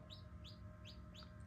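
Newly hatched chicks cheep in a quiet indoor setting, four short high peeps repeating at an even pace over a low steady hum.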